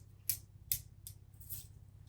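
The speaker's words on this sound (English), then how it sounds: "So I will just cut them off." Scissors snipping off scorched bonsai leaves, four crisp close cuts spaced about half a second apart over a low hum, no talking.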